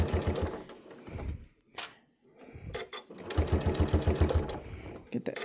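A sewing machine stitches a quilted dish towel in quick rhythmic bursts of needle clatter, pausing briefly in the middle before running again, close and clear with a faint voice nearby.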